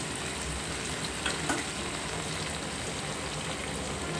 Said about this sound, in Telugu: బాగా వేగించాలి ఈ రెండు.